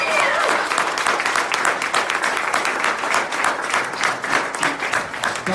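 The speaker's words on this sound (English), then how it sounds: "Give her a round of applause." A room full of people applauds after a speaker introduces someone at a political event, with strong, dense clapping that is loud at the start and continues with gentle rises and dips.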